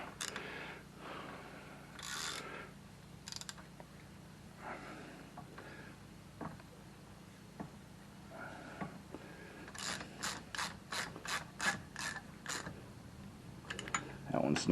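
Ratchet wrench clicking in quick bursts on a Kohler Command Pro V-twin engine as cylinder head bolts are snugged down in a cross pattern, close and crisp over a low shop hum, with short pauses between runs.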